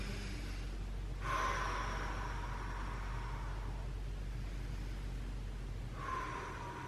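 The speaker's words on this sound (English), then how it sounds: "we're gonna focus on nice deep breaths here." Deep, slow breaths during a post-ride recovery stretch: two long audible inhales or exhales, soft and close, separated by a quiet stretch over faint background hum.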